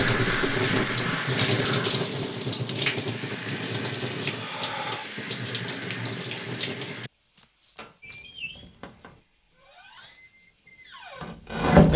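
Shower water runs steadily for about seven seconds, a dense broadband hiss, then cuts off, leaving quiet room sounds and a few faint clinks.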